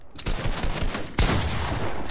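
Assault rifle fire in the video game Fortnite during a 2v2 box fight, two quick loud bursts of close, sharp shots about a second apart.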